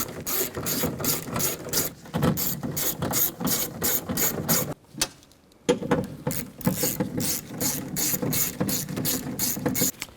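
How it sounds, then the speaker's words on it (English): A ratchet snugs down the bolts on a power window regulator in a 2009-2017 Chevy Traverse. Rapid repeated clicking comes in close, loud bursts, with one brief pause midway before the ratcheting resumes. "And snug them all down."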